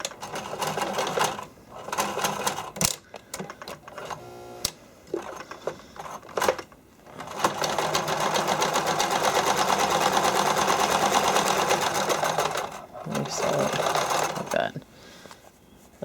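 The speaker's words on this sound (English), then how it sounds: "Put it in your machine. Sometimes it gives a little fuss at first because it's a lot of thickness." Sewing machine stitching through several thick fabric layers while making figure skating soakers, running in short stop-start bursts at first and then a long steady rapid whirr, loud and close.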